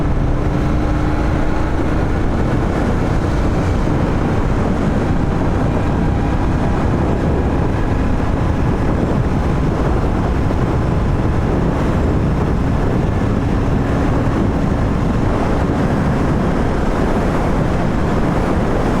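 Crosswind battering the rider's microphone on a Royal Enfield Interceptor 650 at highway speed, a loud unbroken rumbling roar of wind buffeting mixed with engine and road noise throughout.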